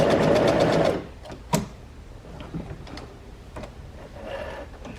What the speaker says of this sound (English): I want to take my scrap fabric here to test the stitches, make sure it's stitching nicely for us.